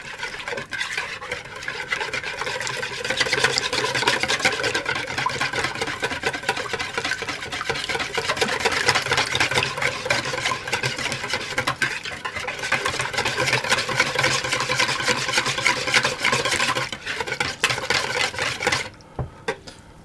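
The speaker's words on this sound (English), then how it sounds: "my eggs, and my herbs, and I'm just going to whisk those to get them combined." Eggs and herbs are whisked in a bowl, giving a steady, fast, scratchy tapping rhythm that goes on close and continuous for about twenty seconds before it stops.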